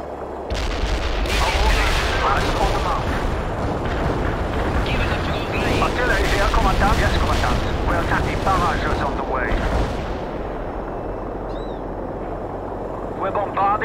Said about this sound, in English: Bombarding the target and firing for effect